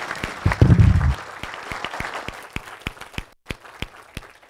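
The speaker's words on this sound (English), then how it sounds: "can we give Judith a round of applause for all she did?" A room of people gives a brief round of applause for a colleague at a coaching education session, a short burst of dense clapping that fades into scattered, spaced single claps.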